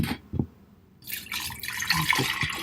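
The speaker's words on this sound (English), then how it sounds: "Now you need to add your water." Water pours steadily into a jar for cucumber mint water after a short pause, a close, continuous gurgling stream that follows a couple of soft knocks.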